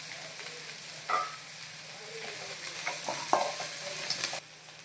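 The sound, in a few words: onions frying with curry leaves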